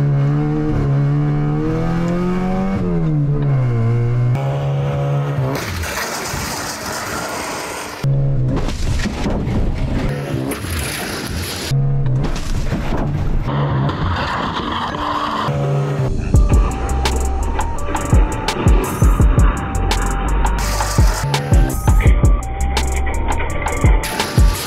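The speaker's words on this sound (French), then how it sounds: "Aujourd'hui on va percuter un gros scooter, un gros 125." A car slams into a large 125cc scooter at about 50 km/h in a crash test, with engine roar, tire noise and a loud clattering impact of breaking parts and scattering debris.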